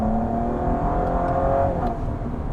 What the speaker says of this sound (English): it's actually one of the better sounding V6s on the market